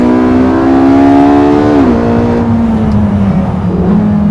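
Porsche 918 Spyder engine at full power, a loud, continuous, close engine roar climbing steadily in pitch, briefly dipping at a gear change, then pulling hard again with no talk.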